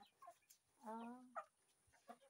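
Farm chickens cluck and call near the microphone in short bursts, with one longer, drawn-out crow-like call in the middle, over a quiet rural background.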